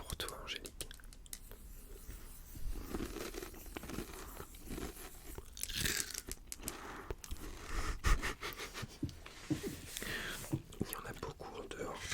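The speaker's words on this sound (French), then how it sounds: "Là, nous sommes sur de l'oignon frit. C'est relativement croustillant." Crisp fried onion crunched and chewed close to the mic at a sushi tasting, with irregular crackly bites and wet mouth sounds mixed with soft whispering.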